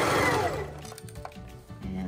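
A sewing machine runs up close, stitching a sleeve onto a garment over the shoulder seam, with a steady whirring drive that starts loud and continues briefly with mechanical clicks.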